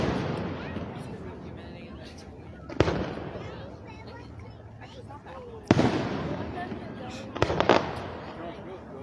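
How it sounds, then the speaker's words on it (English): Fireworks explode over a river at a night-time river fest in Lockport, PA, with sharp booms at intervals followed by crackling and rumbling tails, while people talk in the foreground between bursts. "the people who shoot out the fireworks with the fire company"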